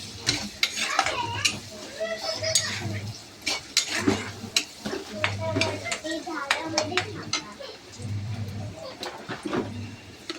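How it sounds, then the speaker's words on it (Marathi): Spoon stirring and mixing Kathola bhaji, a vegetable dish spiced with turmeric and red chilli, in a pan, with repeated scraping strokes and light clinks over a low background hum, close and moderately loud. "परत मिक्स करूया।"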